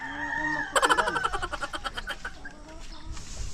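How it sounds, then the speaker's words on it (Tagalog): Chickens kept on a plywood floor at a house in the Philippines, clucking and crowing close by in a loud burst of rhythmic calls that fade into softer clucks. "Lolo Boy, mayroon pang sapin yung mga manok mo"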